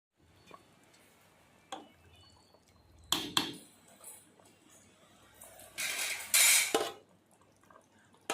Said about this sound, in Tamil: ஒரு நாலு கப் அளவுக்கு தண்ணி ஆட் பண்ணணும்